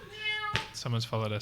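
A house cat meows twice in quick, close, fairly loud calls, with a person speaking briefly just before.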